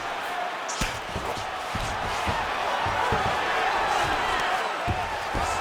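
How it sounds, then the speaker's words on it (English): Arena crowd in the EA Sports UFC 5 game cheering loudly and steadily as two fighters get back to their feet, a dense roar with sharp thumps and cracks throughout, with commentary voices over it. "crowd absolutely loving it as the fighters, however compromised, make their way back to the feet"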